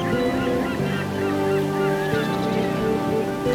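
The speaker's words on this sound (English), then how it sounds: "let's stick in a few seagulls in here, shall we? Sound effects, please." Seagull sound effects play alone: gull calls and cries ring out over a steady, wash-like background.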